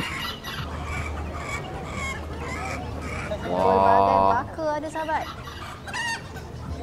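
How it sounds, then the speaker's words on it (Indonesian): Bantam chickens (ayam kate) at a Malaysian animal fair, a close hen squawk and clucking over a busy outdoor din with someone talking briefly. "Ayam kecil itu ayam kate kalau kat sini"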